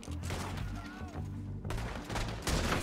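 Rapid gunfire from Red Dead Redemption 2, several sharp reports in quick bursts over a busy game soundscape with low rumbling background.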